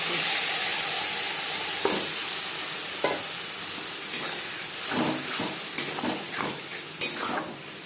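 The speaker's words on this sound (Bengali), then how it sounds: "তিন চার মিনিট পেঁয়াজ ভেজে নেওয়ার পর দিয়ে দেবো মশলা" Spice masala tipped into onions frying in oil for a Katla kalia fish curry, then stirred, giving a steady close sizzle with repeated scraping strokes and clinks that grow busier toward the end.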